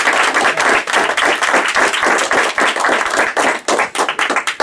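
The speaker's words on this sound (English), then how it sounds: "Let's give her a round of applause." A crowd at an entrepreneur event claps loudly and steadily. The dense, close applause continues unbroken for several seconds.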